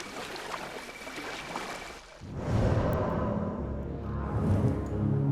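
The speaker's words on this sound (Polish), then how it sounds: "od czasu do czasu tak sobie popływać łódką" A boat is rowed across water in Assassin's Creed Mirage. A soft game hiss gives way to a steady, fuller wash of water and paddle swishes that continue to the end, with no talking.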